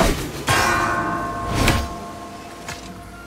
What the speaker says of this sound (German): Ich habe geläutet.